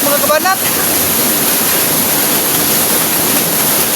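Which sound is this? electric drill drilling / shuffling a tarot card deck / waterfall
waterfall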